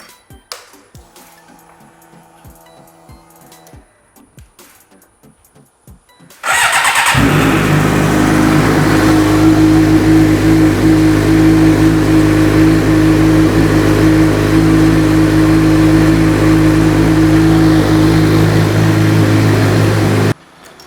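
A Suzuki GSX-R600 sport motorcycle engine fires up after quiet mechanical clicks, then runs loud and steady with a rough, throaty idle and some revving until it cuts off.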